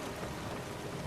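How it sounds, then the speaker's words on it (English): Steady, dense rain in Kingdom Come: Deliverance 2 hisses continuously with a low rumble beneath it, heard alone for a brief moment. "All right, traveling in the rain."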